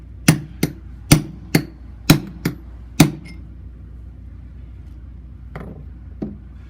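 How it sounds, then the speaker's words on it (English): Hammer blows strike a steel setting tool to drive and set an anchor in concrete: seven sharp, ringing metallic hits in a quick uneven series, then two fainter taps after a pause. "just like pounding the anchor in."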